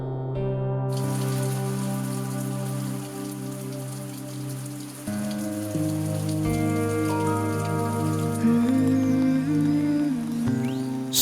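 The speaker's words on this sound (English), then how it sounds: "And finally, rain comes to the rescue." Steady rain pours down across a forest canopy in Myanmar, a continuous wash of drops running for the whole stretch beneath a sustained, swelling musical score.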